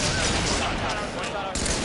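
Gunfire in a competitive video game match, a continuous dense barrage of shots sounding loud and crowded from start to finish, heard with commentary over it.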